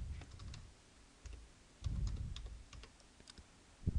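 Typing on a computer keyboard, a steady patter of close, soft key clicks with a few heavier thumps, irregular in rhythm and without any voice.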